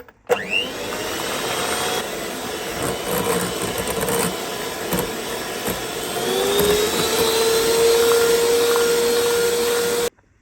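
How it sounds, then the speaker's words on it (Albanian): Electric mixer beating cake batter made with flour and baking powder, a loud, steady motor whine running for about ten seconds before cutting off abruptly. "I përzina tash të krejt përberset, pra prap në mikser."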